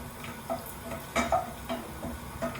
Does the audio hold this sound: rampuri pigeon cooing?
no